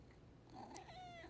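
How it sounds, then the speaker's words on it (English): A little kitten mews once, faint and close in a quiet room, its thin rising cry sliding downward, with soft purring around it. "Oh, that was my little baby kitten."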